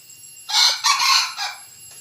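A young yellow Thai fighting rooster, about three to four months old, crows once up close, a loud strained call broken into two surging bursts and a shorter tail, with quiet surroundings before and after.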